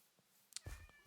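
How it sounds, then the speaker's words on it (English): A faint cat meow from the Minecraft video game rises briefly over quiet ambient background, a short single call with some soft clicks around it. "I thought that was a cat."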